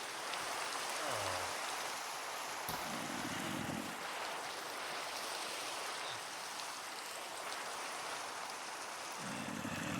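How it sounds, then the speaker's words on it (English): Steady rain falls in Minecraft, a continuous broadband hiss of drops with a few low muffled thuds from the game underneath; no voices. "But because it's raining, an enderman will never spawn."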